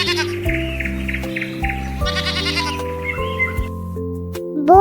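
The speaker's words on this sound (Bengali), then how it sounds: "ছতে ছাগল, ছাগল ছানা" A goat kid bleats over a bright, tuneful children's alphabet melody, with short wavering cries set against sustained musical notes.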